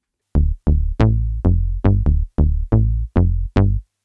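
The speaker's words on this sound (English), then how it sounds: "a very famous FM sound you should probably know about is the lately bass" Lately Bass FM synth preset from a DX7 emulation, playing nine punchy, plucky bass notes in a steady bouncing rhythm, each with a bright attack that quickly decays, alone and clear.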